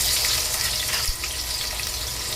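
Onions sizzle in hot oil with cumin, curry leaves and asafoetida, a steady, loud crackling hiss with small pops, close up and with no voices.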